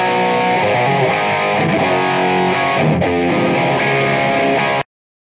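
Distorted electric guitar through amp cabinets, picked up by a condenser microphone, rings out as a dense, loud, sustained chord wash before cutting off abruptly.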